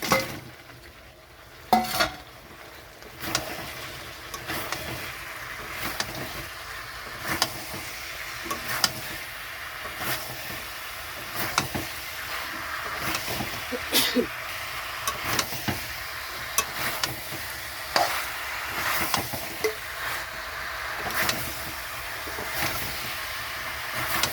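Fried chicken pieces for chili chicken sizzle in a pan while being stirred, with repeated scraping and clinking of a utensil against the pan over a constant frying hiss. Nobody speaks.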